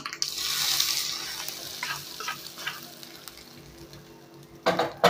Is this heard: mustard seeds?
yes